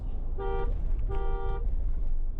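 A vehicle horn sounds twice in short, bright toots with a brief gap between them, over a steady low rumble of traffic in a village in Bihar.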